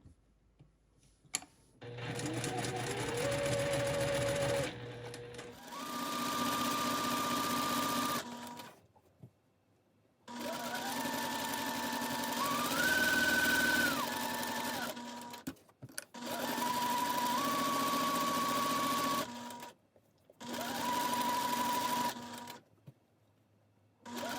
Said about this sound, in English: I'm just gonna go ahead and sew 1/8 of an inch on both sides here.